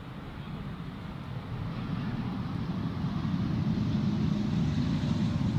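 An Embraer 190 airliner at Schiphol Airport gives a steady, broad jet roar that swells gradually louder over several seconds, heard from a distance with no voices.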